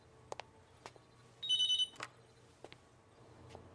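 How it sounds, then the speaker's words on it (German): A telephone gives one short electronic ring burst of bright, pulsing tones, set among scattered soft clicks and knocks in a quiet room. "Telefon."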